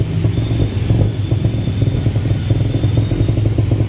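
A motorcycle engine rumbles loudly and steadily on a Bangkok street, heard up close with a rhythmic throbbing and some clattering traffic noise around it, no talking.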